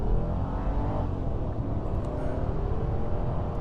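A silver Mercedes SL500 R129 Silver Arrow accelerates hard, its engine a steady, heavy rumbling roar heard from inside the car, sustained without talk.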